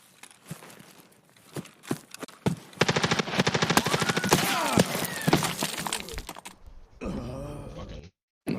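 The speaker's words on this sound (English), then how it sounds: "I can hear that it was an M4 that was shooting him" In a tactical shooter game, an M4 rifle fires in rapid automatic bursts at close-to-mid range, rattling loudly after a few scattered single shots, with a brief pause and some background noise at the end.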